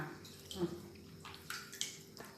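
A child bathing in a bathtub of water: faint, soft sloshing and a small splash near the start, with quiet water movement and a muffled voice in the background.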